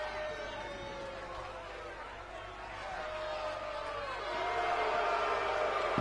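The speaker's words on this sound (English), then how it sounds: "You can hear the women screaming in the crowd." Crowd at a live wrestling show screaming and cheering, a dense roar of many voices that swells louder toward the end, heard at a distance with scattered shouts rising above it.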